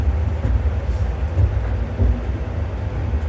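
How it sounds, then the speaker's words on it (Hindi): A Tejas Rajdhani train crawls slowly into Rajendra Nagar station, giving a steady low rumble with soft rhythmic clatter from the wheels and the carriage, loud and continuous throughout with no voices. "क्रॉल करके आगे बढ़ रही है हमारी ट्रेन, अब राजेंद्र नगर में एंटर करेगी"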